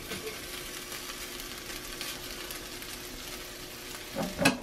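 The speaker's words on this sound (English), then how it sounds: "get my cast iron skillet on there, get a little olive oil, give these guys a drain, get these guys in here" Potatoes for corned beef hash fry in olive oil in a cast iron skillet, a continuous soft hiss and crackle heard close, with a brief scrape of stirring at the end.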